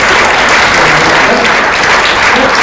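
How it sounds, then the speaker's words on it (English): Loud, dense applause from an audience at a medical presentation on bladder Botox treatment, a continuous wash of many hands clapping close and steady throughout. "Round of applause."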